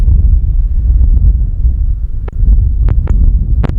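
Strong outdoor wind buffeting a microphone at an RC airfield during the maiden flight of an Arrows RC Husky in a 15 mph northwest wind, a steady low rumble with a few brief sharper gusts near the end and no talk.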